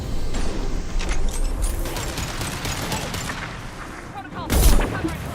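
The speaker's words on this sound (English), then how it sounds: "Firing a high impact shot." A heavy, high-impact gunshot from the video game Mass Effect 2 on Insanity difficulty booms out loud near the end, amid ongoing game combat noise and rumble.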